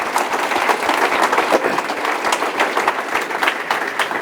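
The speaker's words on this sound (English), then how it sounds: "Can we have a round of applause for Dr. Vikram Sampath?" An audience at a literature festival hall bursts into sustained clapping for a speaker, a crisp, fairly loud wash of many hands with no talk over it.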